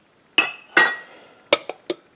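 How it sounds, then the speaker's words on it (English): An embossed OvenServe ceramic ramekin, a small shallow baking dish, clinks sharply about five times as it is handled: two ringing knocks, then three quicker taps close together, near and clear with no talk. "we'll show a ramekin real quick, just a shallow bowl"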